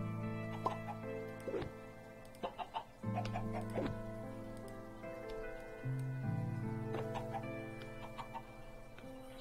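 Chickens in the Minecraft modpack FTB Sky Adventures, a few short clucks and squawks popping up over a steady droning tonal background hum, moderately near and fairly quiet.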